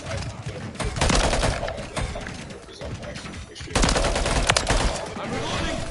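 Rapid automatic gunfire in the shooter game Modern Warfare III, dense loud bursts and sustained fusillades up close, with short gaps between volleys and a voice talking at times.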